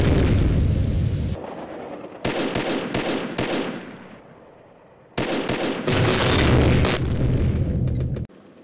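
Heavy booming blasts and rolling gunfire from the video game Combat Arms, including a grenade explosion, loud bursts with a quieter gap between them before the barrage resumes and cuts off.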